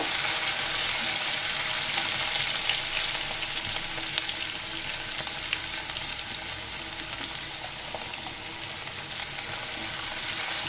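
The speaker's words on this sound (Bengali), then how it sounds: "এই পর্যায়ে আমি দিয়ে দিব আলুগুলা। দিয়ে আলুগুলাকে আমি ভেজে নিব।" Thin potato slices fry in hot oil with lightly browned garlic for a red amaranth (lal shak) stir-fry, giving a loud, steady, close sizzle that continues for several seconds without any voices.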